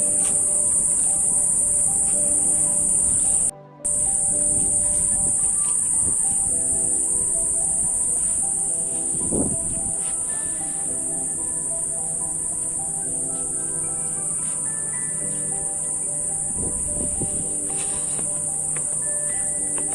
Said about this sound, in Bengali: আপনারা আশা করি আওয়াজ পাচ্ছেন ঝেঝি পোকার